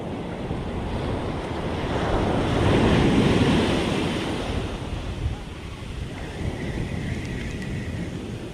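Strong ocean waves break on a rocky beach where people surf fish, a loud rushing surge that swells and then recedes, with wind buffeting the microphone.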